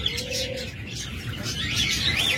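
Pet lovebirds and doves kept for sale, cooing and chirping close by in a continuous busy mix of calls, with a few brighter tweets rising near the end.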